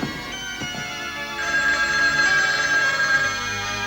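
A telephone rings with a bright electronic tone, loud and close, repeating over a steady background with no one speaking.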